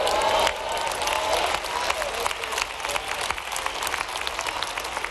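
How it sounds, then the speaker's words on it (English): A church congregation clapping during a sermon on spiritual warfare, a continuous moderately loud patter of many hands filling the room, with murmured voices mixed in. "y'all clapping now"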